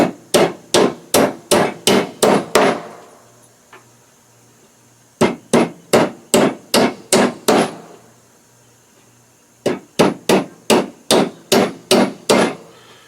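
Rapid bursts of hammer blows striking nails into a wooden beehive honey super frame, about seven quick strikes per burst, three bursts separated by short pauses, loud and close.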